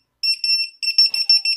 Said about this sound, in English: it goes back into the regular alarm mode